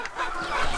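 A hen close by lets out a short run of agitated clucks among other farm animals, loud and near with no talk over it.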